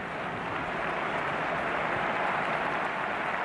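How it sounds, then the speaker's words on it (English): A football stadium crowd at Barcelona sends up a round of applause, a steady broadband wash of distant clapping that holds evenly throughout, with no voices standing out. "there's a round of applause going up"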